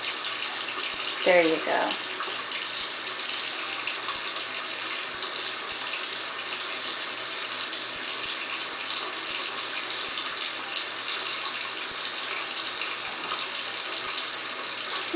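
Steady tap water runs throughout while hands are washed in the stream, a constant hiss with a brief child-like voice near the start.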